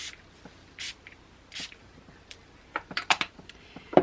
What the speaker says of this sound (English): She's using the setting spray. This is the Too Faced Hangover